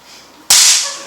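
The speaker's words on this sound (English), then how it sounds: "Look, Penny, look at these new little firecrackers we just made." A small homemade firecracker bursts with one sharp, loud crack, preceded by a faint hiss, and the bang rings out for half a second before fading, with no talking around it.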